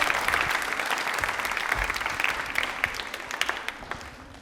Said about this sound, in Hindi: ताली एक बार जोरदार बजा दीजिए इनके लिए